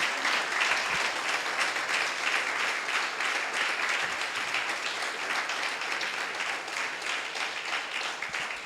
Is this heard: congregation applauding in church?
yes